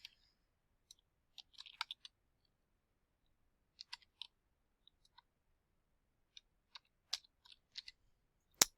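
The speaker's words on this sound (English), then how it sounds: "I will right-click and go to New, Computer, type the name of the computer" Sparse, faint computer mouse clicks sound close by, arriving singly and in small clusters against a near-silent background during work on a computer.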